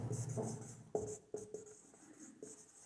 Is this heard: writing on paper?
yes